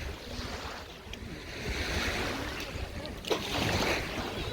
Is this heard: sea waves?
yes